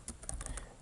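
Quick, light keystrokes on a computer keyboard while names are entered into a JavaScript program, a short run of soft clicks close by with no talking.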